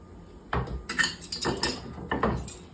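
Pork ribs rattle and clatter inside a metal cooking pot as it is shaken in several quick bursts, close and fairly loud, with no talking.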